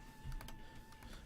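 A computer keyboard clatters during a Brawlhalla match, a quick, close burst of several clicking keystrokes.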